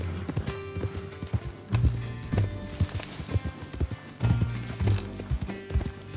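Horse hooves galloping in the video game Red Dead Redemption 2, a rhythmic clip-clop of repeated thuds up close, with a faint snort or whinny.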